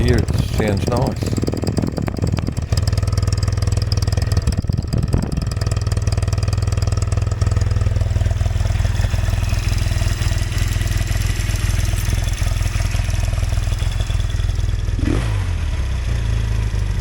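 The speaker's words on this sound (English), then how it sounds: "You can hear it ticking a bit, but I do have tappet adjusters in there that do make this clicky noise." A Yamaha TX750A air-cooled motorcycle idles steadily close by on a hot day, its engine giving a continuous low rumble with light tappet clicking running through it. A brief rev comes near the start.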